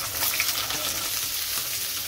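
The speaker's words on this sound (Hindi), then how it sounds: "तेल गरम हो चुका है, अभी इसमें मैं कांदा डालते देती हूँ" Chopped onion dropped into hot oil for masala bhindi, giving a brief, close, even sizzle with a crisp hiss and light crackle, no voices.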